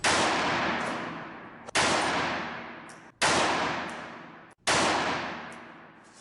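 Four loud, close gunshots from a Tanfoglio GT 380 semi-automatic pistol, fired one at a time about a second and a half apart, each with a sharp crack and a long ringing decay, and no talking.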